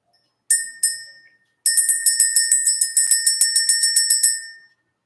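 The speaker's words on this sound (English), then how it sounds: "Let's ring the bell." A bell is rung twice, then struck in a rapid run of about twenty even, bright ringing strokes, close and clear with nothing else heard.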